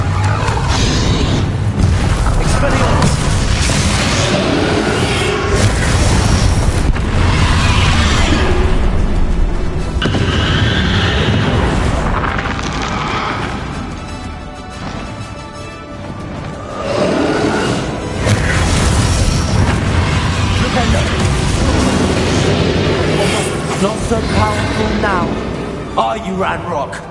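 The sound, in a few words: spell explosions in the video game Hogwarts Legacy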